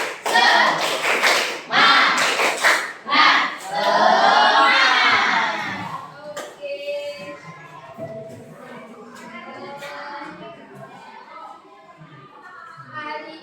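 Schoolchildren in a classroom perform a rhythmic spirit clap, sharp bursts of group clapping mixed with shouting voices, ending with a teacher speaking more quietly.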